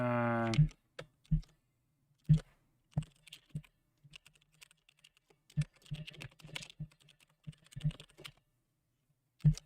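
Typing on a computer keyboard, heard as sharp, irregular key clicks in short bursts and single strokes, fairly close and alone, with a short tonal hum at the very start.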